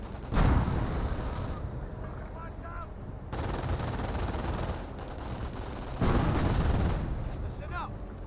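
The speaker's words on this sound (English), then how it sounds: "MG42 does suppress the Flamer Engineer" An MG42 machine gun fires in the World War II strategy game Company of Heroes, with repeated bursts of rapid gunfire separated by short pauses, mixed with other battlefield noise at moderate loudness.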